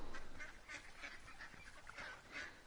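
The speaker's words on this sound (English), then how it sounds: "You can hear ducks, but you can't blooming see ducks and moorhens and stuff." Ducks and moorhens call in the woodland soundscape of the video game Firewatch, a repeated run of nasal honking quacks at moderate distance over a soft ambient bed.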